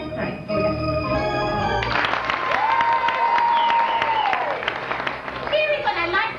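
A talent show audience at a radiothon claps and screams loudly and continuously, with a high sustained shriek rising above the dense applause and crowd noise throughout.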